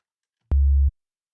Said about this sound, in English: We are going to get a sine wave.